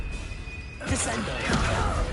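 The Descendo spell slams a target down in Hogwarts Legacy, a heavy whooshing crash that erupts sharply and then rumbles on, with speech layered over it.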